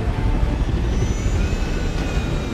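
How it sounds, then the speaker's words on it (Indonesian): Batman's aircraft flying away in a film, a constant roaring engine drone with a whining tone drifting slightly in pitch, steady and fairly loud with no talking. "mereka pun pergi dengan pesawat milik Batman"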